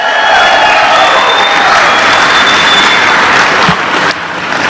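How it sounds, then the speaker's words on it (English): An audience applauds an a cappella group from Princeton at a governor's live-streamed event, giving a dense, sustained round of clapping that fades slightly at the end. "Can we have another round of applause for the great Princeton a cappella group?"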